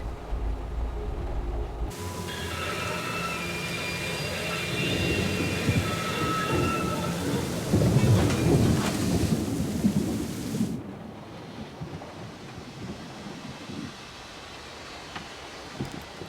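Thunderstorm with heavy rain in the video game Syberia: The World Before: a steady downpour hisses throughout while deep thunder rumbles, swelling loudest midway before the rain settles into a quieter patter, with no voices.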